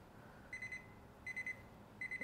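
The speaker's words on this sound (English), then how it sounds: "And I'm beeping on my stove here, which means I hit some button I should not have." Kitchen stove beeping after a mistaken button press, three clusters of quick high electronic beeps, each a rapid triple, evenly spaced and fairly faint in a quiet room.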